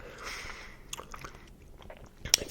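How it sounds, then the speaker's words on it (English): Close-up wet chewing of Warheads sour gum that has broken into several pieces, soft squishing and smacking mouth sounds with a sharp click near the end, recorded quietly for ASMR. "It feels like there's just a bunch of different pieces that I'm chewing on"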